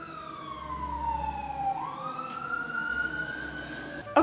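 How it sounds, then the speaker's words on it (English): An emergency siren wails past, its tone sweeping down then rising again as the vehicle passes through, loud and steady over low road rumble, with no talk. "Sirens go by, shall we?"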